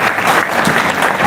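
Short burst of audience clapping at an employment honour ceremony, loud and dense, filling the moment with no talk over it.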